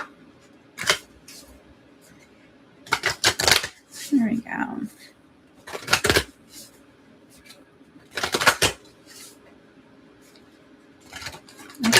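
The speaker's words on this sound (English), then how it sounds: "I have to do proper-ish shuffles." Oracle cards being shuffled by hand in a series of short, crisp riffling bursts separated by pauses, close and fairly loud, with someone speaking briefly between shuffles.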